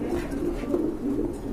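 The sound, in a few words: pigeon cooing, spangle racer breed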